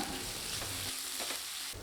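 Garlic, ginger and green chilies sizzle and crackle in hot oil while being stirred in a pan, a steady frying hiss close by with occasional scraping.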